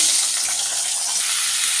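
Potatoes and flat beans hit hot oil in a wok seasoned with five-spice and dried chillies, giving a loud, continuous close-up sizzle.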